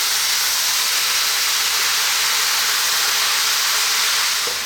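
Spinach wilting in a hot pan gives off a steady, loud hiss of steam and sizzle for the full stretch. No talk is heard.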